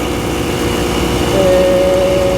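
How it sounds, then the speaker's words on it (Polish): Romet Ogar 200 moped engine running at close range, a steady buzzing idle with a rattle from a stretched chain loose in the crankcase, and a tone that rises partway through. "Ewidentnie coś lata po karterze, łańcuch."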